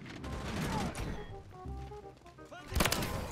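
Gunfire in Call of Duty MW3 sounds as a few bursts of shots with sharp pops near the end, mixed with game noise and a brief voice.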